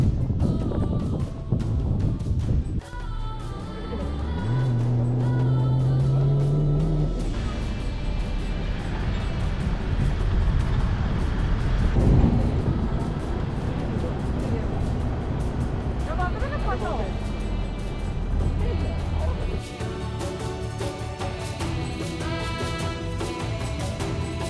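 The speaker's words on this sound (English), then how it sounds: "We are driving back through the desert to the camp." Vehicle driving through the Wadi Rum desert, a steady engine and road rumble with wind buffeting, under voices and other sounds throughout.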